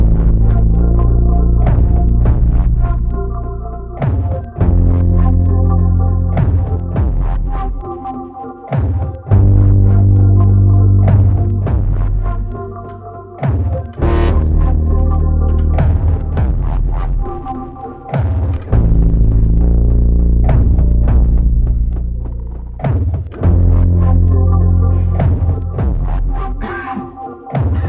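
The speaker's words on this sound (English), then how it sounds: "I've also got a System 1M patch running on this" Roland System-1m synthesizer patch playing a steady, throbbing tonal sequence with deep bass and rhythmic transient hits, loud and continuous with no talking, as part of a live set alongside an Elektron Octatrack and Analog Four.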